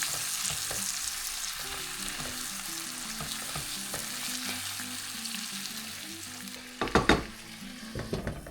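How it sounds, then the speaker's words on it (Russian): Chicken pieces frying in a pan, a steady broadband sizzle throughout with occasional stirring clatters and a brief louder burst of spattering near the end, close and moderately loud. "Так, курица потихонечку жарится."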